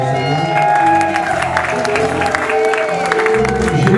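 A wedding congregation at a religious ceremony applauds in a sustained, fairly loud wash of clapping, with voices and music mixed underneath.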